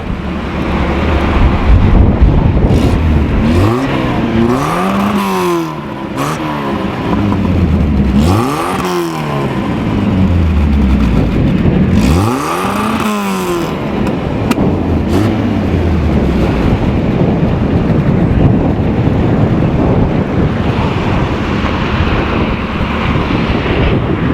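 A Mk1 Volkswagen Caddy's exhaust revs up and down several times in loud sweeping surges, heavy wind buffeting the microphone throughout.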